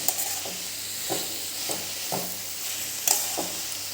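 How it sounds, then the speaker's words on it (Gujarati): Spring roll filling with noodle masala and soy sauce being stirred in a pan, giving a soft steady sizzle broken by a few light scrapes and taps of the spoon at regular intervals. "અને one four teaspoon soya sauce આ બધું એક વખત આપણે હલાવી લેવાનું છે"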